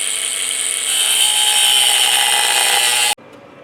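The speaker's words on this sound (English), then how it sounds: "I'm just gonna grind this down a little bit over there." An angle grinder grinds down a corner of car body metal during an LS engine swap, a loud, steady high-pitched whine that stops abruptly near the end.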